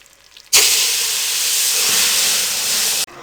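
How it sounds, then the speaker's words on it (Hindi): Hot sugar syrup hits fried semolina for puri-style halwa, bursting into a loud, sudden steamy hiss that holds for about two and a half seconds and then cuts off abruptly. "अब इस चाशनी को हम सूजी में शामिल कर देंगे"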